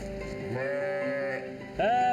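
Sheep on a Yorkshire farm bleat twice: a long, wavering call followed by a second, louder bleat that starts abruptly near the end. Both are close and clear, with no talking.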